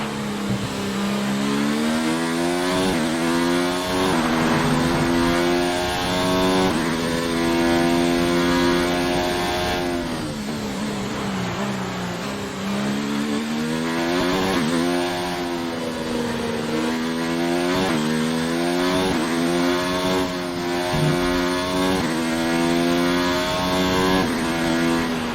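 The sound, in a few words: Formula 1 car engine racing in F1 2019 video game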